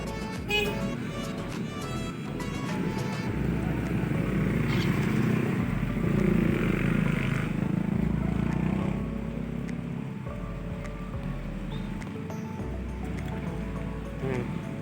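Rain falls during a motorcycle ride near an airport terminal gate, a continuous wet hiss and splashing wash over a low engine hum, fairly soft and steady with no voices.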